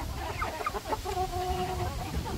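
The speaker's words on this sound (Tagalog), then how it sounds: "Tapos mga Rhode Island natin nandiyan sa dulo. Ito yung sisiw natin." Rhode Island hens and young chicks cluck in a farm poultry pen, with a few short calls followed by a steadier, sustained clucking line over low background noise.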